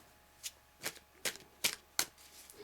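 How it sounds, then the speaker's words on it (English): A classic Rider-Waite tarot deck being shuffled by hand, five crisp riffling bursts spaced about evenly apart, close and clear against a quiet room with no talking. "I'm just going to shuffle and then I'll choose 3 cards"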